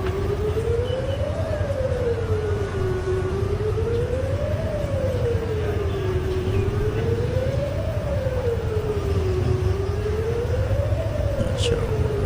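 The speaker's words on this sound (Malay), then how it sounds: "Siren ya." A siren wails during a flood in Malaysia, a steady rising and falling tone that sweeps slowly up and down in long even cycles over constant background rumble, loud and sustained throughout.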